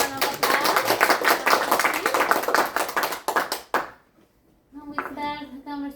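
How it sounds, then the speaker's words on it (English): Players at a live game session give a round of applause, with dense clapping for several seconds that stops abruptly, followed by a brief quiet and then a person speaking. "please, a round of applause"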